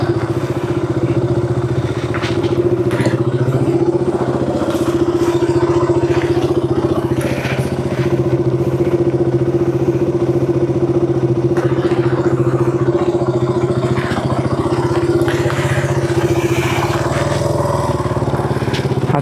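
A motorcycle engine idles outdoors close by, holding a loud, steady, slightly uneven putter throughout with no change in pace.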